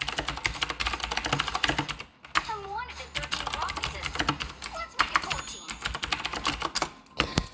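Rapid close keyboard typing as a chat message is written during an Arena of Valor mobile match, dense clicking with a brief pause midway and game sounds underneath.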